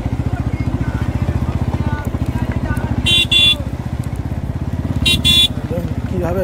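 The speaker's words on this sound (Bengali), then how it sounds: "আর তার পাশ দিয়ে আমরা বাইক নিয়ে যাচ্ছি" A motorcycle rides along the edge of a deep stone quarry, its engine throbbing loudly and steadily up close, with two pairs of short, sharp horn toots breaking through.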